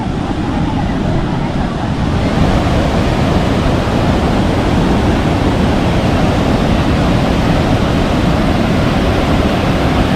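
Bhatinda waterfall near Dhanbad, white water pouring over rocks, heard as a steady, loud, dense roar of rushing water that fills the whole stretch without pause.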